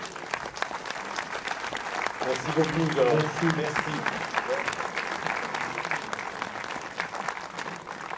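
A theatre audience applauds in a steady clatter through a tribute to a film director, swelling midway and then holding, while someone speaks over it.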